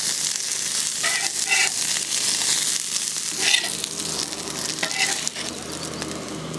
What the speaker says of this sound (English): it's time to put some buttered buns on the grill